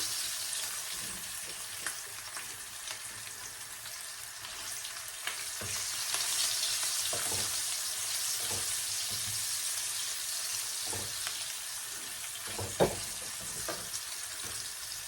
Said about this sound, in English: And here is our shrimp, so we're gonna get them in as well. Let them saute for a bit.